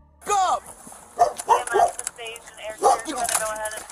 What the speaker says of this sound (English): Got the dog defending the house.